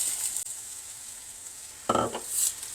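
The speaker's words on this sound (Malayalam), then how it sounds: "ഈ ഉള്ളി ഇങ്ങനെ ഒന്ന് വഴന്നാൽ മതി" Steady oily sizzling of onion sautéing in oil in a pan, with a brief burst of stirring or scraping near the end; no voices.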